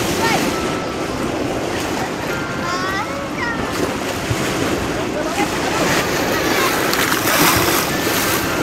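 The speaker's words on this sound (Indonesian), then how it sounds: "Oh, lumayan ombaknya." Waves breaking with a moderately strong surf near a colourful bridge at sunset, heard as a steady broadband wash of water throughout, with wind noise and faint voices in the background.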